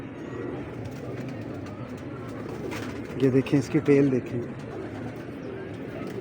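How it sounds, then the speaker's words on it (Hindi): A female Resham pigeon at a Lahore breeder's loft gives a short burst of throaty cooing midway, near and clear, while someone talks over a steady background hiss. "क्या रेशम कबूतरी है यार"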